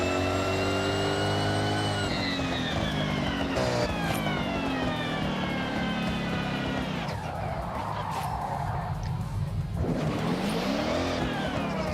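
A turbocharged all-wheel-drive car in Forza Horizon 6 revs hard during quarter-mile drag runs, its loud engine note climbing and dropping through gear changes with a brief tire squeal, continuous and close.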